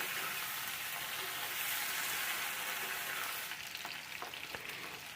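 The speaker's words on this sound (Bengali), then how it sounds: "আলুটা এবং কাঁচকলাটা একটুক্ষণ ভেজে নেব" Potatoes and green bananas fry in a pan over a lowered gas flame, a dense continuous sizzle that eases slightly partway through, with a few soft stirring clicks toward the end.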